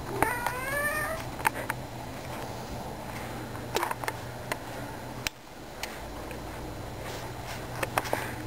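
A cat meows a few times early on, a rising series of calls, heard indoors at home over a steady low background hum with scattered faint ticks.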